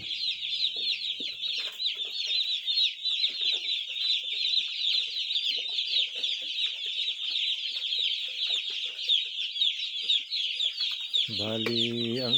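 Newly delivered chicks on a farm in Mindoro peep constantly in a dense, loud, high chorus, with a brief deeper rooster-like call near the end.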